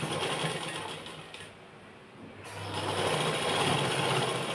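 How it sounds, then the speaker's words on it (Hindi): A sewing machine runs stitching a fold on a kurti, a steady close whirring hum that dips briefly midway and then resumes at full speed. "इस तरीके से यहाँ पे एक सिलाई लगा देंगे"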